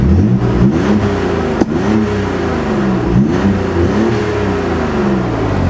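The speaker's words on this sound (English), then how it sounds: "I heard that backfire." The engine of a twin-turbo Nissan 300ZX revs close up in repeated rising and falling blips, with a single sharp pop of a backfire partway through.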